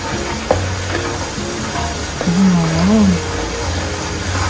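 Chilies and kaffir lime leaves fry in a pan for fried tilapia with chili sauce, giving a steady close sizzle with occasional stirring clatter and a brief tonal squeak, no talk.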